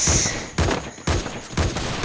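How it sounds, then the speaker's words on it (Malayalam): Gunfire in a shooting video game, loud bursts of rapid shots in four sustained volleys with brief gaps between them, close and dense, with no talk over them. "ഇവിടെ ഒരുത്തരെ നമ്മളങ്ങനെ വെടി വെച്ചിട്ടുണ്ട്"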